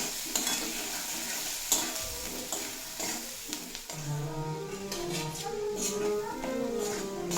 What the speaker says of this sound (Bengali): লঙ্কার গুঁড়ো দিয়ে খুব ভালোভাবে ভেজে কষিয়ে নেব যাতে আদা রসুনের কাঁচা গন্ধটা